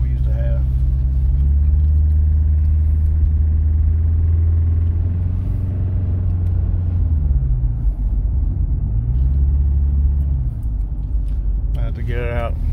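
Subaru car climbing a mountain road, its engine humming low and steady from inside the cabin with pitch shifting as it changes gear, while someone talks over it.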